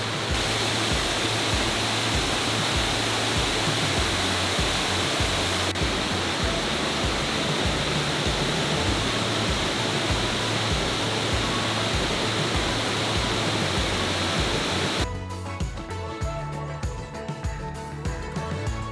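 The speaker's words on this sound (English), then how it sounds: "Probably one of my favorite waterfalls of the whole trip." A steep waterfall along the Lake Superior Circle Tour, a loud, continuous close roar of falling water that fills the whole scene without letting up.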